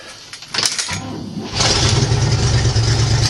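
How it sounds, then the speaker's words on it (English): An International Harvester truck engine with an exhaust leak cranks briefly, then catches and settles into a loud, rough, close-up idle. "When I start this up, you're not going to be able to hear me talk because of the exhaust leak."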